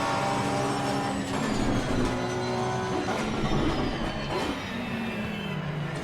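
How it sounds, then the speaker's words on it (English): An Audi R8 race car engine in the Assetto Corsa Competizione video game howls and shifts pitch as it accelerates and downshifts, with a second engine whine passing nearby, loud and continuous. "I do love the sound of that R8."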